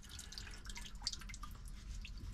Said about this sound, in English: that's good coloured water coming out of the engine block now